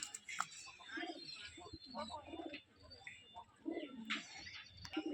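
A pair of light green doubaz pigeons coo close by in soft, repeated low calls, with a few chirps and background chatter mixed throughout.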